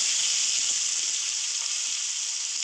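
Onion sizzling in hot oil with whole cloves, green cardamom and black peppercorns for mutton kosha, a steady, close, loud frying hiss with no talk.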